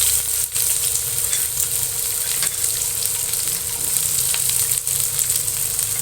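Onion and vegetables sautéing in a pan for a pizza topping give off a loud, steady, close sizzle throughout, with occasional soft stirring ticks and no voices.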